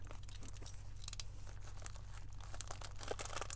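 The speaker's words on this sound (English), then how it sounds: "Today I have an order from Moonshine Mani that I'm going to unwrap." A mail order package of nail polish is unwrapped close up, giving soft crinkling and tearing of packaging in quick irregular bursts over a low hum, faint and without talk.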